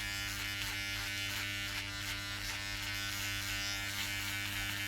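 Electric hair clippers buzz steadily through a home buzzcut, cutting close along the top of the head; a constant near, loud hum with slight rhythmic flutter as the blades pass through hair, no talking.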